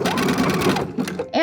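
Sewing machine backstitching the seam of a Christmas stocking, a loud, steady close-up motor whir with rapid needle chatter that stops abruptly, followed by a brief mechanical click.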